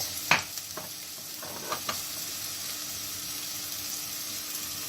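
Garlic sizzles faintly in a pan for an Algerian mtewem tajine with almonds, a soft steady hiss with a few sharp clinks and stirring knocks near the start, then settling into an even low crackle.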